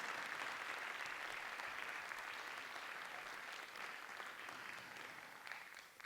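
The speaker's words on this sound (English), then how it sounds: "Let's give these girls a big round of applause" Applause from the audience at an elementary school arts awards ceremony, a dense, even patter of many hands sustained for several seconds before tapering slightly toward the end.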